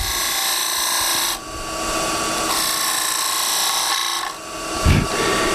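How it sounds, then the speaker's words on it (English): A skew chisel cutting a V groove into spinning wood on a lathe, shaping a bead: a steady close scraping hiss from the cut that drops out briefly twice and resumes, with a soft thump near the end. "using the skew again. We'll make a bit of a V cut here, get down a little bit lower"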